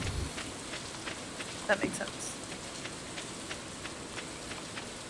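Soft, steady rain hiss with faint scattered drips in the video game Stardew Valley plays quietly under a person speaking briefly.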